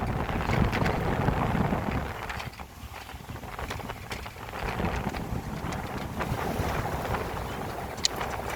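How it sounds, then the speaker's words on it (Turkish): Strong 21-knot wind buffets the microphone in a steady roar aboard a sailboat under sail near Chios, Greece, with rushing water and occasional rattles, no voices. "Buraya gelince rüzgar yine arttı."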